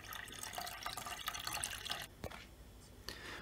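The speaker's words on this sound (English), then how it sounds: "Now I'm just going to lean the washing machine forward just to drain the rest of the water out" Water drains out of a Hotpoint/Indesit washing machine tilted forward, a faint continuous trickle and splatter with scattered drips, briefly interrupted by a knock, and no talking.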